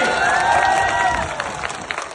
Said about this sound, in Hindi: अरे उस बच्चे के लिए जरा तालियां बजाओ जिसने उतनी बहादुरी से बात की।